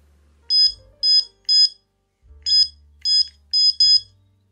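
An electronic carp fishing bite alarm beeps in two bursts of short, sharp, evenly spaced high tones, three then four, clear and close against near silence.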